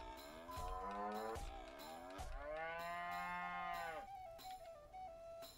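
Cattle in South Park: The Stick of Truth give several drawn-out moos in a row, loud and close, each low lowing call swelling and fading with brief gaps between.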